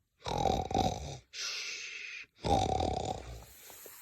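A person imitates snoring with two long, rasping inhales separated by a breathy, hissing exhale, close and fairly loud.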